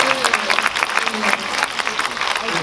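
Audience applause in a Korean cinema hall during a post-screening talk for the film Hero, dense clapping from a seated crowd mixed with a voice speaking over it.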